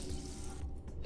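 Water pours steadily into a pressure cooker while foxtail millet payasam is being prepared, a soft continuous splashing that fades near the end, quiet and close with no voices.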